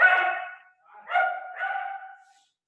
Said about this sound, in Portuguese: os cachorros começaram a latir